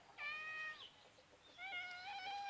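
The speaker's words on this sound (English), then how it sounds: "now my cat's gonna get really mouthy because he knows this is where he gets treats" A cat meows twice, clear, drawn-out harmonic cries separated by a short pause, close by in a quiet kitchen where a rabbit is being butchered and portioned, the cat expecting treats.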